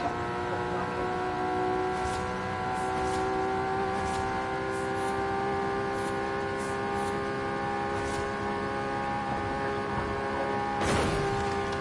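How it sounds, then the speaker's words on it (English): A BMW M3 GTR engine in the racing game Forza Horizon 5 holds a steady, sustained drone with harmonic layers, loud and continuous throughout, with a brief sharper burst near the end and no talking. "Just wait until you hear this car really open up"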